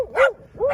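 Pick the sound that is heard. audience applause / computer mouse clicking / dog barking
dog barking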